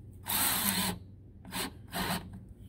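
A power drill fitted with a 5/16 inch nut driver whirs in three short bursts, one longer then two brief ones, close and clear while mounting a tailgate ladder.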